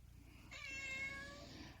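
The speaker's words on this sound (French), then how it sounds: "J'ai le chat qui miaule." A ginger cat gives a single drawn-out meow indoors, faint and slightly distant against a quiet room.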